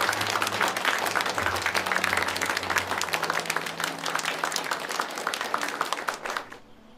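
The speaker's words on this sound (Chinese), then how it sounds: "咱们给两位先生都鼓鼓掌" Sustained applause from an audience honoring two gentlemen in a period drama scene, dense steady clapping at close range with no talking, cutting off abruptly at the end.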